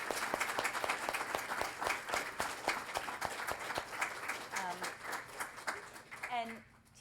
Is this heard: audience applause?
yes